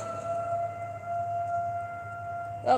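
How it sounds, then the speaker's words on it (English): A fire siren wails at a distance, a sustained steady tone held for several seconds over a faint low hum, ending with a brief louder bump, with no talking. "there goes the fire siren."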